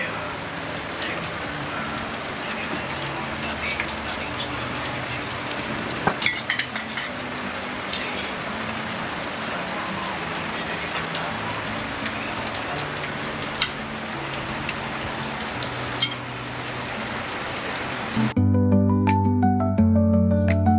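Rain falls steadily at a house under construction, a dense even patter throughout, while metal clinks and taps from rebar work sound over it and a musical tone comes in at the end.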